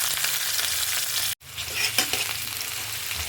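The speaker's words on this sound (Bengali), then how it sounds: "এখন আমি পেঁয়াজটা ভেজে নেব।" Onion fries in a pan with a bright, close hiss, broken by a sudden near-silent gap, then resumes with a stir or clink.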